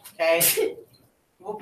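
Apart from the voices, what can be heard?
sneeze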